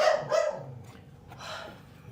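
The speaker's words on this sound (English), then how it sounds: "The dog is barking." Dog barking a few times at moderate distance, two or three sharp barks in quick succession followed by a fainter one, heard alone without speech.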